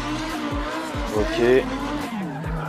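A BMW 1M sliding through a drift test course, engine revving and tires skidding in bursts, with someone talking over the car noise throughout.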